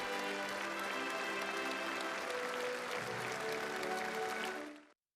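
Dense, sustained applause fills a large summit hall at a China-Africa cooperation forum as leaders enter, a steady roar of many hands clapping that holds evenly before cutting off abruptly.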